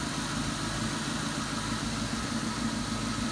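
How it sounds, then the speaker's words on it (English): A Ford Mustang engine idling before reaching operating temperature, giving a steady, even low rumble with a constant mechanical hum, close and continuous without speech. "with it idling, not quite at the temperature yet."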